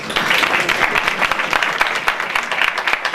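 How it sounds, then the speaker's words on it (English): Audience applause at a Sheva Brochos celebration, a dense steady wash of many hands clapping close and loud for about three seconds, with no voices over it. "I first want the applause of you all"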